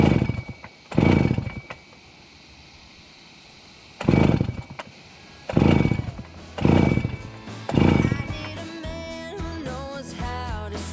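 Stihl 041 chainsaw being pull-started, with several loud separate bursts as the engine fires and revs briefly, the last catching into a running, revving engine near the end.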